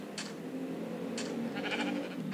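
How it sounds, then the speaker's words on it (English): Minecraft sheep bleat in a survival game, with a few short bleats spaced apart over low background game ambience. "Maybe shear more sheeps."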